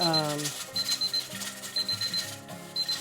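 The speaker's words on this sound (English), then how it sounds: "timer's going off" A kitchen timer beeps in short repeated bursts during home pressure canning of green beans, sounding under people talking nearby.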